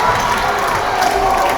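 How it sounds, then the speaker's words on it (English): Crowd cheering and shouting at a 1A high school volleyball gold medal game between Medstead Mustangs and Rouleau Rebels, a steady loud roar that fills the gym with no break. "Crowd's starting to get electric."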